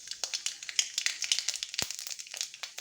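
Mustard seeds and dry chillies tempering in hot mustard oil in a wok, giving a quiet, steady run of sharp crackles and pops with one stronger snap near the end, no voices.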